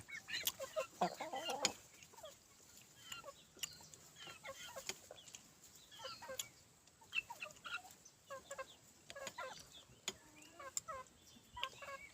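Chickens cluck in a rural Isan setting in northeastern Thailand, bursts scattered through the whole stretch at moderate distance, with other birds chirping around them and no talk.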